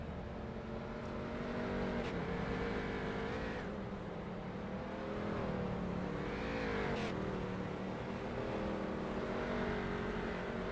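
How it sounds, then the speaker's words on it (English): Street stock race cars in iRacing rolling out onto the Eldora Speedway dirt oval, several engines droning and revving steadily with rising and falling pitch as cars pass, moderately distant and continuous, with no talk. "Race cars making their way out onto the racetrack."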